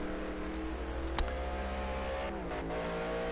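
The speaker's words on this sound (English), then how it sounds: "These cars are pretty loud, actually." Race cars running practice laps at the Watkins Glen circuit give a steady, sustained engine drone with a brief sharp spike partway through, heard alone without talk.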